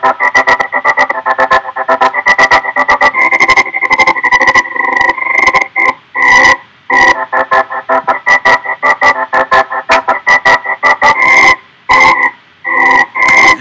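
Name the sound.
stutter effect in the UVI Workstation Urban Vault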